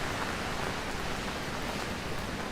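Rain falls on a Manhattan street as a steady, even hiss of drops with no pauses. It is moderately loud, with no talking.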